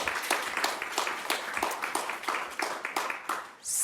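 An audience at a culture event claps in a short round of applause, with distinct, irregular hand claps close by that rise and fall over a few seconds before fading out.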